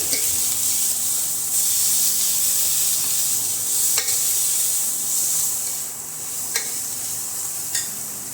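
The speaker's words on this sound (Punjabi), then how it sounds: "ਕਸਤੂਰੀ ਮੇਥੀ ਨੂੰ ਮਸਲ ਕੇ ਪਾ ਦਾਂਗੇ ਤੇ ਮਸਾਲੇ ਨੂੰ ਮਿਕਸ ਕਰ ਦਵਾਂਗੇ" Masala with crushed kasuri methi fries in a pan, a steady loud sizzle and hiss with a few sharp scrapes of stirring against the metal, and nobody speaks.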